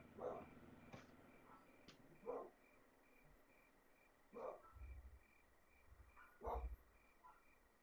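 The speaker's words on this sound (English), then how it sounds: "If you guys hear my dogs barking" Dogs bark in short, spaced bursts, some distant and some closer, over a constant chirping of crickets and a low background hum.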